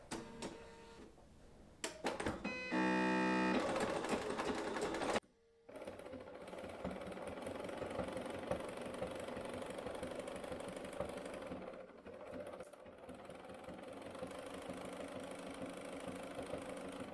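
Domestic sewing machine stitching a three-step zigzag about 3 mm long on a knickers gusset, with a brief faster whirring burst and then a steadier, quieter run of motor hum and needle clatter, close by and without speech.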